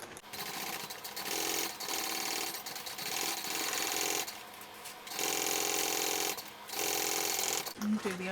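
A sewing machine stitches a Brentwood backpack in several steady, rapid runs, each stopping briefly before starting again, close and fairly loud.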